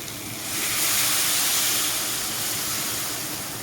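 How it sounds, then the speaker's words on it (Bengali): Water poured from a bowl into a pan of bitter gourd curry makes a loud, continuous rushing wash that swells and then settles into a steady hiss. No talking is heard. "এখন দিয়ে দেবো বাটি দিয়ে জল"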